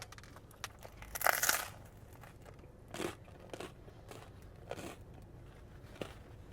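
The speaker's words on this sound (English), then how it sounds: "the crust is actually super burned and crunchy" Biting and chewing burned, crunchy Sicilian pizza crust: one sharp crackling crunch early on, followed by several quieter, spaced crunches as it is chewed close to the mic, with no speech.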